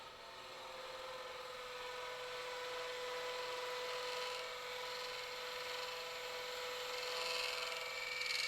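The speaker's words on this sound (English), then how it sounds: "hollowing the box out, that you can see that I'm doing here with a 3/8 inch bowl gouge" A lathe spins as a 3/8 inch bowl gouge hollows out a square wooden lidded box, giving a continuous steady whirring hiss of cutting, fairly faint and unbroken, with no talking.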